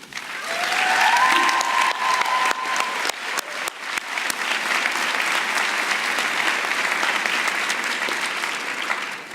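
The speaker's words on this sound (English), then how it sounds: "Please join me in a round of applause to thank all those folks, too." A commencement audience at a master's ceremony breaks into loud, sustained applause, dense clapping filling the hall evenly from start to finish with a brief tonal cheer near the beginning.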